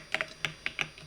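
Several quick, crisp keystrokes on a computer keyboard, close up and irregularly spaced, with no voices.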